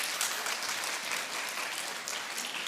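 A congregation at a Korean church's Sunday worship service in downtown Seattle claps to welcome the pastor to the stage. The applause is steady and continuous, moderately quiet, with no speech over it.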